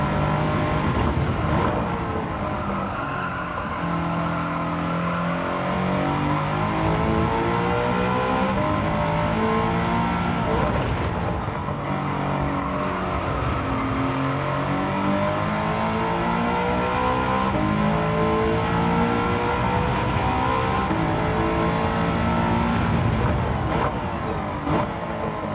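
Race car engine lapping Brands Hatch in Gran Turismo 7, a steady loud drone that rises and falls through revs and gear changes for the whole stretch, with no talk over it.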